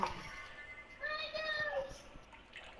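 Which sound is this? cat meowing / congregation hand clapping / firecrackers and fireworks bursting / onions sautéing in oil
cat meowing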